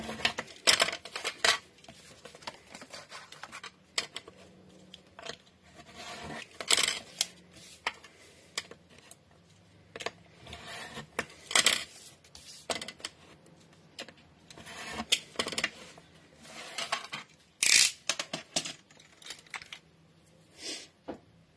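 Card stock corners being trimmed for a bohemian-style scrapbook kit: a close, irregular series of crisp snips and clicks with short quiet gaps between cuts, and no talking.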